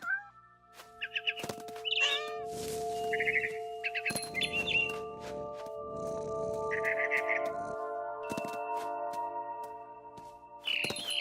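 A cat meows in the video game What Remains of Edith Finch, short mewing calls mixed with bird chirps, soft thuds and rattles over a sustained tonal game ambience, with no talking.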